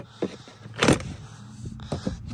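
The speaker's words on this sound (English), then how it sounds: "it's a wheel lock tool." Metal wheel lock tool being handled inside a BMW 335xi, a few short close clinks and jangling scrapes with a louder rattle near the middle, no talking.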